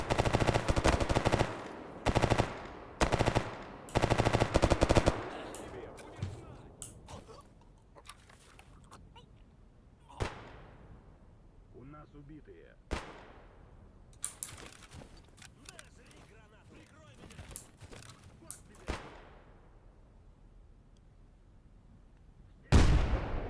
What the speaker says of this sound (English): Those guys just shot the bandit.